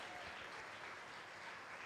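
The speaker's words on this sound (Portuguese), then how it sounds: "Então aplauda Jesus por tudo isso nesta noite maravilhosa." An audience at a church Bible seminar applauds, a dense, even wash of clapping throughout.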